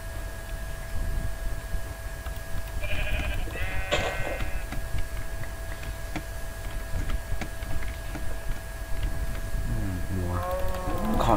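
Sheep bleating in the survival game Minecraft 1.8, a couple of short wavering bleats near the start and another toward the end over a noisy, steady game background, with no talking.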